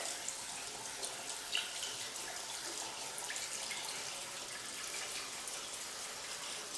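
Tap water runs steadily over a makeup brush being rinsed clean of soap, a continuous soft splashing hiss with small irregular spatters, close and fairly quiet.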